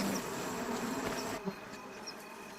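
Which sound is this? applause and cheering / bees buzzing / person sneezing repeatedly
bees buzzing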